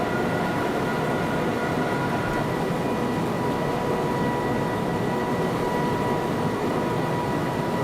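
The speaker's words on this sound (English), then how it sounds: "So here at Krippen I've just idled the power to allow the train to coast." Steady, continuous rolling rumble of a BR 101 electric locomotive coasting with power idled in Train Simulator 2017, on the Schöna to Dresden line in Germany, with a constant low hum and faint tonal whine throughout and no voices.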